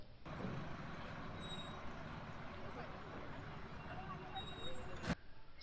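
A large bus or heavy vehicle rumbles steadily and fairly loudly for several seconds, with a brief sharp hiss like an air brake release near the end.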